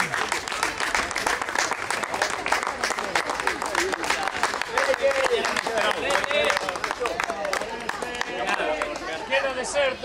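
An audience at a prize-giving ceremony applauds continuously and loudly for a runner-up, dense clapping with crowd noise throughout and voices mixed in.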